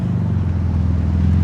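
Cars rolling into a Cars & Coffee meet hosted at an IKEA, with a steady, fairly loud low engine drone from vehicles passing close by and no talking.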